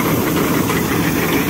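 A tractor engine runs at a steady, loud, dense rumble close by, with no voices.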